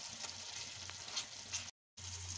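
Chicken karahi, with cream and garam masala powder just added, being stirred in a pan: a steady close sizzle and frying hiss with soft scraping, a brief silent gap, then the sizzle resumes.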